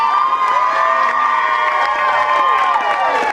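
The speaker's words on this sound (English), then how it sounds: "Let's give a round of applause." A loud burlesque show audience cheers and shouts continuously with applause mixed in, a dense, sustained roar of voices throughout.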